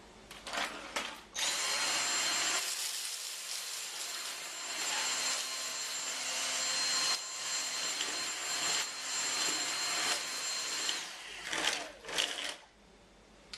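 A Dyson DC59 Animal cordless vacuum cleaner picks up sprouted lentils with a loud, high-pitched whine that starts after a brief burst, holds steady with slight surges, then cuts out near the end.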